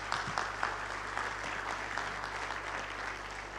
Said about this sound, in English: Can you give them a round of applause too,